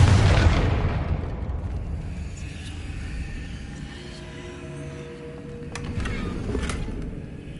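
Confringo fire curse explosion in the Hogwarts Legacy game, a loud booming blast at the start that fades into a long rumbling tail with scattered crackles and debris sounds.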